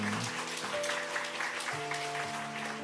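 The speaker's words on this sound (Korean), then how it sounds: "박수로 네 환영하겠습니다" A church congregation at a Sunday morning worship service applauds to welcome newcomers, a soft continuous patter of clapping heard at a distance with a sustained tonal hum, likely organ or keyboard, underneath.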